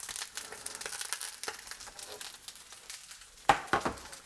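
Sausages searing in a pan ahead of braising give soft, irregular crackles and sizzles, with a couple of sharper louder pops near the end.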